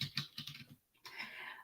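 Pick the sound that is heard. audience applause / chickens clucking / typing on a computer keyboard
typing on a computer keyboard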